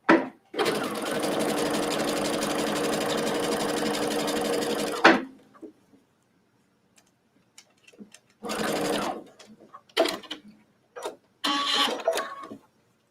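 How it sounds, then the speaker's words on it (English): A sewing machine runs a long straight basting stitch on a face mask wrap, a steady loud whirring hum for about five seconds, then stops; brief shuffling and short bursts of handling noise follow. "I think I'm just going to run a basting stitch. So straight stitch,"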